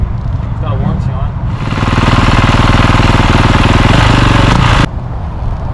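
A dirt bike engine idles loudly up close while warming up, with a steady buzzing putter that holds for several seconds before cutting off abruptly, with people talking over it.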